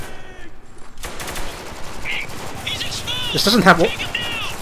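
Gunfire rings out in the shooter Spec Ops: The Line, with rapid shots and bursts popping under someone talking in the foreground.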